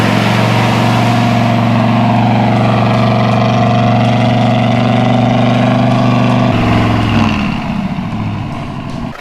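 A 1962 Chevy pickup on racing-slick tires revs hard with a loud, steady engine drone as it climbs a driveway, the pitch dipping and easing near the end; no talk.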